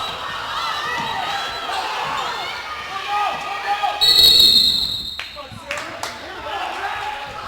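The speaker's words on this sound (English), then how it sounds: "Now the crowd's getting a little bit animated." Spectators at a girls' high school basketball game between Jackson and Woodinville grow rowdy, cheering, clapping and shouting in a gym, with a sharp burst of noise midway, sneaker squeaks and a commentator talking over it.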